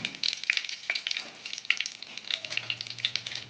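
Mustard and cumin seeds spluttering in a little hot oil for a spinach sambar tempering, a close, steady sizzle peppered with quick crackling pops throughout.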